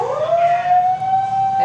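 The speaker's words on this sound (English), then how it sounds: "There's like a fire engine coming up here." A fire engine siren passes close and loud on a steep road on the island near Kamakura, a single rising wail that settles into a held tone.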